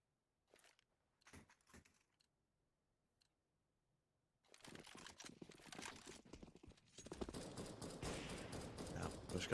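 Auto sniper rifles fire in a Counter-Strike match on mid. A few faint isolated shots come first, then a dense, loud, continuous barrage of rapid gunfire builds to the end.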